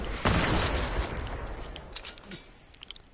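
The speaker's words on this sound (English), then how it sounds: "And of course he gets a quad launcher." A quad launcher fires in the Fortnite video game: a sudden loud blast of rocket launches and explosions opens the moment, then the rumble fades into scattered softer pops.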